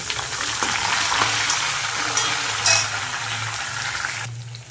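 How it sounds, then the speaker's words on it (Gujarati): Tomatoes, onions and chillies sizzle steadily in a hot pan with sesame seeds and peanuts, close and loud, as a spoon stirs and scrapes through the mix now and then. No one speaks. "ટોમેટા ડુંગળી ને મરચાંને નાખી દીધું અંદર ને બધું મિક્સ કરી દીધું"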